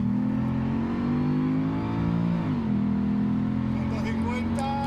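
A Mercedes-McLaren SLR engine accelerates hard on a track, a loud continuous growl that climbs in pitch, dips briefly at a gear change, then rises again, heard close from inside the car.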